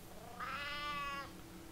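A hungry cat in the video game Sheltered gives a single clear, drawn-out meow lasting under a second, close and alone over a quiet background hum.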